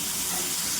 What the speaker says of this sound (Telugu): మధ్య మధ్యలో కలుపుతూ బాగా వేపుకోండి